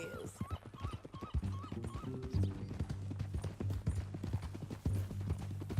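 Horse hooves clip-clop steadily in Red Dead Redemption 2, a fairly close, rhythmic trot that runs under game music and a brief neigh, with no talk over it.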